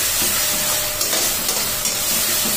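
Mixer-ground poppy seed paste fries in a pan with a loud, continuous close-up hissing sizzle and a few brief stirring scrapes, no speech.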